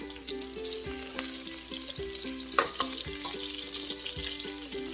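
Julienne onion sizzles in a few tablespoons of hot oil for vegan pad thai, a soft steady frying hiss under a repeating low hum, with one sharp clatter midway and no speech.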